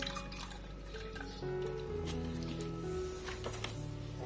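Liquid is poured into a sweet pancake dessert mixture, a soft continuous trickle with light dripping, close and fairly quiet.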